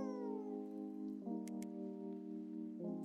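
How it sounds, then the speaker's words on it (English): A cat meows in the Fairytale Fables video game, a sustained tonal call with a pitch shift partway through, clear and alone. "Meow."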